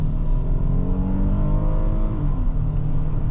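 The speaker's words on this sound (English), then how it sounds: "let me just slam the brakes here a little bit and punch it in the cold" A 2023 Hyundai Palisade Calligraphy SUV accelerates hard from inside the cabin. The engine drone climbs steadily in pitch as it revs, loud and continuous with no talking.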